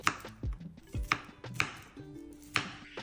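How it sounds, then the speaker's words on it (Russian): Several sharp knife chops through broccoli florets on a cutting board, close and crisp, spaced irregularly with quiet pauses between strikes. "Отрезаем соцветия, нарезаем их на маленькие кусочки"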